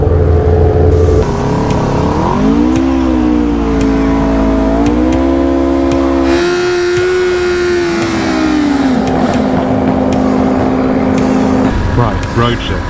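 Superbike engines, an Aprilia RSV4 1100 and a BMW S1000RR, rev and accelerate hard down a drag strip, a loud rising engine whine climbing through gears with shifts, steady and close throughout the clip.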